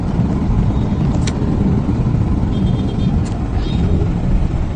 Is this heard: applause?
no